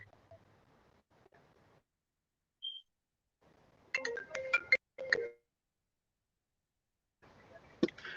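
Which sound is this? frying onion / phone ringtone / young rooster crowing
phone ringtone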